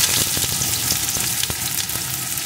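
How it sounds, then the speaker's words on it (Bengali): Chopped onion frying in hot mustard oil in a kadai gives a loud, steady, close sizzle, broken by a few soft stirring clicks, with no voices. "পেঁয়াজ কুচিটা একটু ভেজে নেব"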